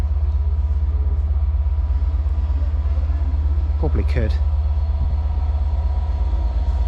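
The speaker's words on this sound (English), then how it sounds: "There's the train." A steady low engine rumble throbs throughout as a class 67 locomotive-hauled train passes a station on the Welsh Marches Line, with a brief squeal and a few words spoken over it.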